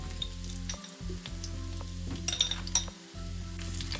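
Curry leaves and chili powder sizzle in hot oil for upma, a steady close crackle over a low humming drone, with a few light metal clinks and stirring scrapes.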